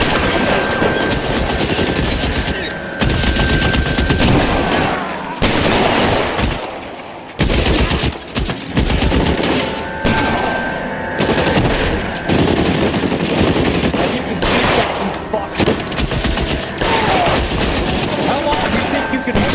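Sustained bursts of automatic gunfire and rapid single shots in the video game LA Noire, loud and dense throughout a shootout, with brief pauses between volleys.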